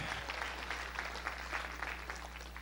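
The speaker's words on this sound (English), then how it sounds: "Clap your hands." Church congregation clapping hands together during a 1985 Sunday evening service, a steady rhythmic beat of fairly quiet claps over a low constant hum, with no clear voices.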